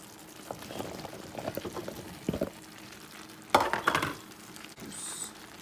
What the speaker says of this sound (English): Now we are going to add the zucchini.